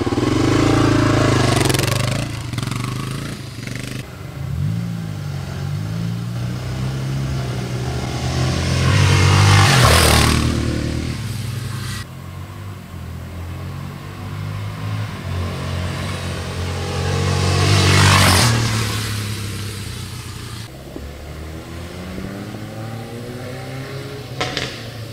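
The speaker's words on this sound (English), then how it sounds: "going very, very slow with his torquey single cylinder four stroke" A 1980 Honda XR500 single-cylinder four-stroke motorcycle engine revs up and down in slow swells, loud and close, rising to peaks twice before settling back to a low throb.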